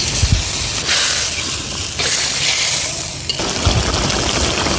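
Pabda fish sizzling in a pan of green bhuna with water, turmeric, green chillies and coriander paste, a steady close frying hiss with a few brief clatters of cookware, no talking.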